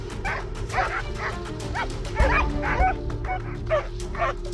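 A dog fighting a hedgehog gives a rapid series of sharp, high yelps and whimpering barks, close and loud in quick rhythmic bursts over a low rumbling background.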